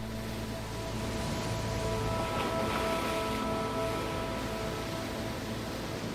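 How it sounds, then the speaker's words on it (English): Choppy sea waves pound the rocky coast at Port of Ness in Scotland's northern islands, a constant heavy roar of surf with no voices. "Choppy seas pound the coast."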